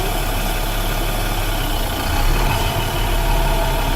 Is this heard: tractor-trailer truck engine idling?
yes